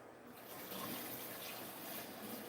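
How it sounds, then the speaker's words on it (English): Pineapple kombucha is poured back into a jar holding pineapple rinds, making a soft, continuous splashing trickle of liquid that stays fairly quiet and even throughout. "So I'm going to go ahead and pour this kombucha back"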